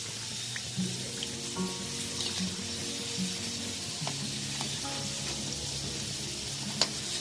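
Chicken wontons frying in a pan make a quiet, continuous crackling sizzle that holds steady throughout, with one brief tick near the end.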